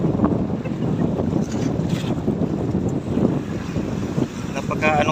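Strong wind buffets the microphone over the churn of choppy sea and a fishing boat, with people talking intermittently beneath the noise.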